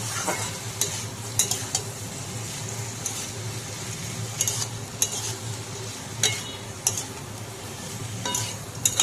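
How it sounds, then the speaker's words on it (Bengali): Chopped onions frying in a pan for aloo posto, a steady close sizzle broken by repeated scraping stirs of a spatula, with no talking. "আর আমি এখন দিয়ে দিলাম কুচিয়ে রাখা পেঁয়াজগুলো এর সাথে একসাথে ভেজে নেব।"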